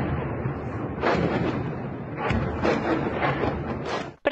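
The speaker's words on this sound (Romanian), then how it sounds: "Aceste imagini publicate de oficialii de la Kiev arată zeci de explozii care au loc simultan" Dozens of simultaneous explosions and artillery blasts strike the hilltop town of Ugledar in the Donetsk region, a dense continuous roar of booming impacts with several heavier surges, heard at a distance with no voices.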